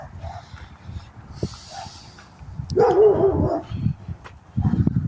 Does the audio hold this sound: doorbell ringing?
no